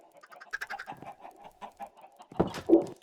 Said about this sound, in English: here's all my chickens.